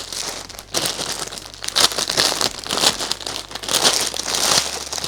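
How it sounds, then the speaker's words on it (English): Plastic wrapping is peeled and crinkled off a pack of sublimation material, a loud, steady crackling rustle close by that continues without pause, with no talking. "I'm actually taking out the wrapping for you guys."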